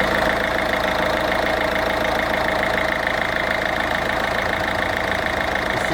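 A Peugeot HDi diesel engine idles steadily during an injector test, with a continuous, even clattering hum heard up close and without talk.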